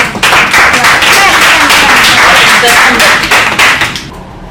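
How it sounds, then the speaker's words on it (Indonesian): A small group applauds the creative production team, with loud, dense, close clapping that runs for about four seconds before tapering off, voices faintly mixed in. "Tepuk tangan dulu dong buat kreatif production."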